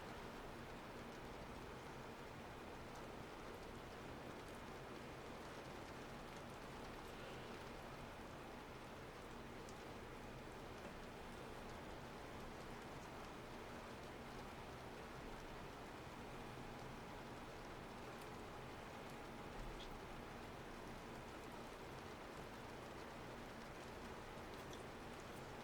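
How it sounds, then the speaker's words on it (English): Steady summer thunderstorm rain pouring on surfaces, a dense even hiss of drops that never lets up, fairly soft and distant, with no voices or thunder. "it's like a summer thunderstorm"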